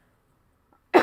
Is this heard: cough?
yes